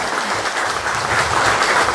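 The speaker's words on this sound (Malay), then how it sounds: "kita bagi tepukan kepada rekan-rekan kita di bawah" Applause at an outdoor political campaign rally in Kemabong, Sabah, a dense steady burst of many hands clapping, loud and continuous for two seconds.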